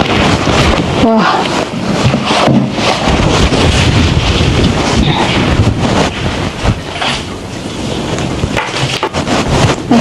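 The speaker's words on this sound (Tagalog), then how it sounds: "Malabig yung hangin." Cold wind gusts steadily across a boat, buffeting the microphone with a loud, continuous rumble and rushing noise from start to finish, with talk underneath.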